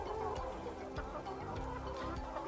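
Chickens clucking close by on a poultry farm, a busy chorus of short throaty clucks over low ambient noise.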